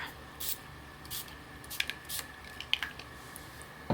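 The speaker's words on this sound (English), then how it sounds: "Do some thicker sprays and see what happens with that." A spray bottle mists onto a gel printing plate through a stencil. Several short, soft hissing bursts come at uneven intervals, faint and close against a quiet room.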